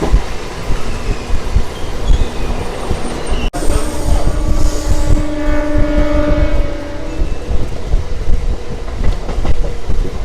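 The Palnadu Express rolls past with a loud, steady rail rumble, rhythmic wheel clatter and a sharp jolt partway, followed by a drawn-out tonal screech as the train goes by close up.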